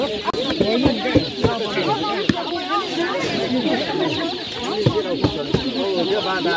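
Chickens given out to farmers in Darjeeling cluck close by in a busy, overlapping chorus of short calls, with voices mixed in throughout.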